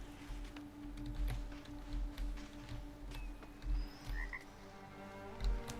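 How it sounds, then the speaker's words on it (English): Frogs croak repeatedly outdoors on open salt flats, rhythmic pulsing calls in pulses at moderate distance, over a steady background drone with a few faint chirps. "So I can hear frog croaking"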